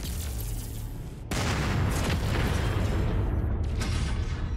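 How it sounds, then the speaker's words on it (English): An ammo explosion tearing through a mech in the video game Mechwarrior 5, a loud booming blast that erupts suddenly into a sustained roaring rumble of detonations, up close and with no talk over it. "Oh yeah, we got an ammo explosion on him."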